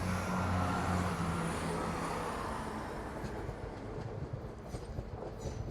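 A Class 170 cross-country diesel unit pulls away from Derby station, its loud engine rumble and rail noise steady at first, then easing with faint clickety-clack as it moves off.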